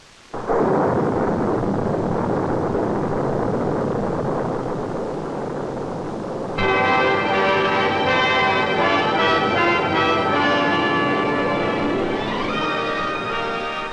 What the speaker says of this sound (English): These tests, called static firings, involve strapping down each stage of the vehicle and firing its engine.